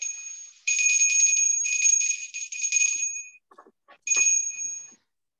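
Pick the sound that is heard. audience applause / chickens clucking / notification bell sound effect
notification bell sound effect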